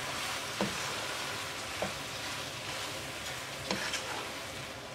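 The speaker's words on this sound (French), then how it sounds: "Et là, j'ajoute mes tomates." Tomatoes tipped into a hot frying pan for a Pakistani shrimp curry sizzle steadily, with a few soft stirring knocks rising above the continuous close crackle.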